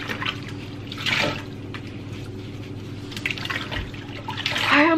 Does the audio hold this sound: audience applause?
no